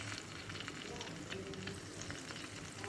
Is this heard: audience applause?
no